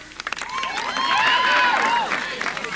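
An audience at a faculty introduction applauds an honored teacher in a sustained, even wash of clapping that builds and holds, with some voices mixed in.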